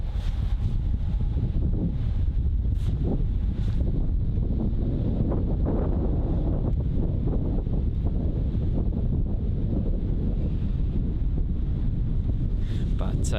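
Steady wind buffeting a microphone at Bristol Airport, a continuous low rumbling roar that stays loud and unbroken throughout, with faint talk beneath it.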